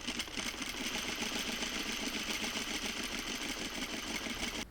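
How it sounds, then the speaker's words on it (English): A 301 lock stitch sewing machine runs steadily through fabric, giving a fast, even mechanical whir and rapid ticking stitch rhythm that continues unbroken for several seconds, close and alone, before stopping at the end. "One of the most common sewing machines you'll see is a 301 lock stitch like this."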